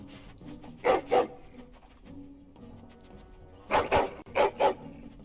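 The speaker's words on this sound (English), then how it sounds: "The warrior's dog looks somewhat like a pit bull." In Dragon Age: Origins, a warrior's dog resembling a pit bull gives two pairs of sharp barks, one early and a double pair later, over a quiet game ambience.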